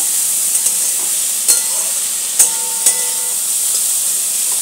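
Onions for a bread roll filling hiss steadily as they fry in a pan, with a handful of distinct spoon knocks and scrapes as they are stirred, close and fairly loud.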